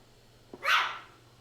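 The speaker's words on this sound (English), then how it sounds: "Listen to the dog back there." A single dog barks somewhere in the background of a home, one short, faint bark over quiet room tone.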